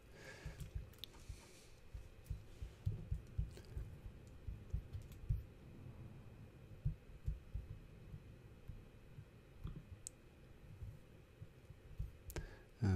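Typing on a computer keyboard: scattered light key clicks in uneven bursts, faint and close over a low steady hum.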